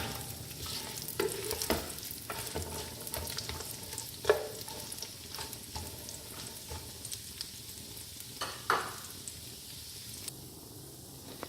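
Fennel and ginger frying in a pan with coconut for jaggery rice, a soft continuous sizzle broken by occasional spatula taps and scrapes, close and fairly quiet, with no one talking.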